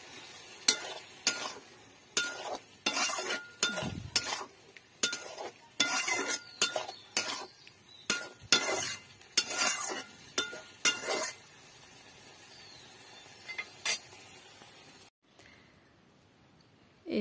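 Chopped beef liver is stirred and fried in a pan, with repeated scrapes and clinks of a spoon against metal over a soft sizzle, in bursts that stop, leaving quiet frying.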